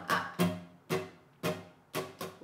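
Acoustic guitar strummed in a down, down, down, down, up pattern for a song, five bright chord strokes at a steady rhythm, close and clear with no talking.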